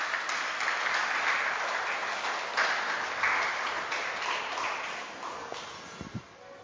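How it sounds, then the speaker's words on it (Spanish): Church congregation applauding together, a dense, sustained wash of clapping that holds steady and then thins out and fades toward the end. "Denle un aplauso al Señor en esta noche."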